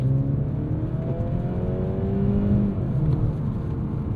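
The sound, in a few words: Mercedes-Benz C 300 2-liter turbo engine accelerating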